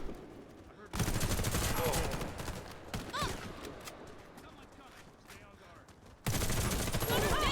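Bursts of ZX84 SMG gunfire in the shooter game Warface, loud sustained volleys at the start and again near the end with quieter game noise between.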